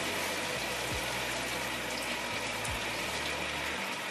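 Running shower at home, a steady dense hiss of falling water that carries on unbroken and close, with a few faint low thumps underneath and no talk.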